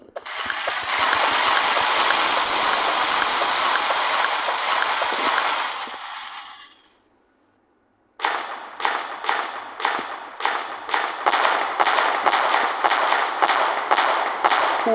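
Fireworks going off in the video game Fireworks Simulator 3D: a long loud crackling burst that cuts to silence, then a fast run of sharp popping bangs, close and loud, with no talk.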